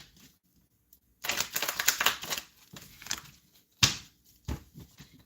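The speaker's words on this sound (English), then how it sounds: "let's shuffle and continue" A deck of tarot cards is shuffled up close, with a riffling burst followed by several quieter flicks and taps of the cards at a low overall level.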